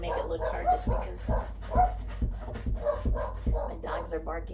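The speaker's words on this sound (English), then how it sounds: "my dogs are barking" Several dogs bark and yip in short repeated bursts nearby, with faint whimpering mixed in.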